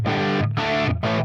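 A Les Paul electric guitar through a drive pedal plays three sustained, crunchy overdriven chords with short gaps between them, loud and close.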